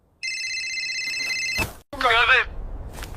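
Telephone ringing with a steady electronic trill for over a second, then a voice speaks briefly over faint background noise.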